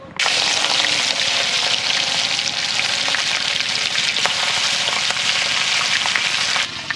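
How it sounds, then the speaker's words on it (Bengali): Bones of a large vetki fish drop into hot mustard oil and fry with a loud, continuous crackling sizzle that starts abruptly and holds steady, close up, with faint bubbling beneath and no talking. "তেল গরম হয়ে গেছে একে একে আমি কাঁটাগুলো ছেড়ে দিচ্ছি তেলেতে"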